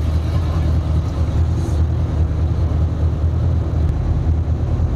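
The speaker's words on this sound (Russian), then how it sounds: "Мотор достаточно долго греется." A 2014 Honda VFR800 motorcycle engine idles steadily while warming up, a low continuous rumble held at an even, moderately loud level throughout with no revving.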